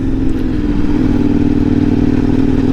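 Engine of a 2017 KTM 1090R motorcycle while riding a ridge road in Northern California, a loud, steady, close rumble with a slight mechanical clatter and no voices.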